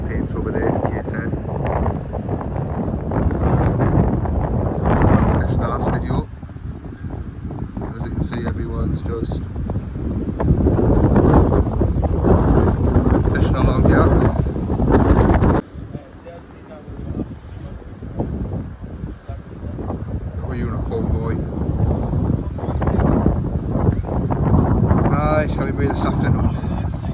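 Strong wind buffets the microphone on a fishing bank by the water, loud rushing gusts that rise and fall throughout, with someone talking over it at times.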